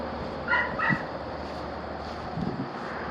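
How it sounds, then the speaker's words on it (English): A puppy barks twice in quick succession near the start, fairly faint against steady outdoor background noise, followed by a soft low sound later. "That's puppy dog there."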